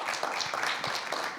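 Brief, dense applause from a conference audience at a Spanish-language developer talk, steady clapping at moderate volume with no speech over it.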